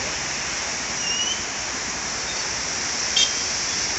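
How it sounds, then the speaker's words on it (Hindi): A river rushes through a forest in Manali, making a loud, steady, unbroken roar of flowing water that stays close and constant throughout, with no voices. "और ये रही नदी।"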